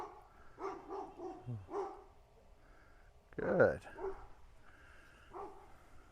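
A dog barks loudly off in the distance, a few sharp barks and yips standing out between calm spoken words from a nearby person working with a horse outdoors.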